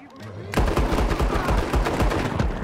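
Rapid gunfire in a Western video game, a dense string of loud close shots firing in quick succession for about two seconds after a brief quiet start.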